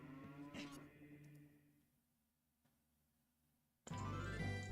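Cows moo in The Legend of Zelda: Ocarina of Time, with one low drawn-out moo near the start, a quiet stretch, then a second loud moo closing the clip.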